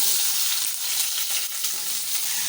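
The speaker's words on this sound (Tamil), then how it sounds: "வெங்காயம் நல்லா வதங்கிடுச்சு" Onions and green chillies frying in a pan, a steady, close, continuous sizzle with soft crackle and occasional stirring, alone without voices.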